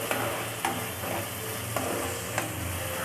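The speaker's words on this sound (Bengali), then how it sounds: "আমি মশলার সাথে আলুটাও সুন্দরভাবে কষিয়ে নিচ্ছি" Potatoes cooking with spices in a hot pan give a dense, continuous sizzle, with a few sharp spatula scrapes every half second or so, close up and without speech.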